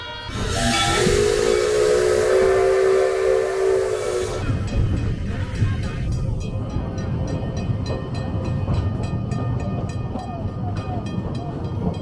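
A coal-burning steam locomotive at Edaville Family Theme Park gives a loud, steady whistle blast over hissing steam, then the whistle cuts off and the steam chuffs and hisses on with rhythmic pulsing.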